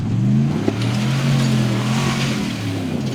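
A 2020 GMC Sierra pickup truck accelerates hard across a field, its engine revving loud and close in a continuous rising and falling drone.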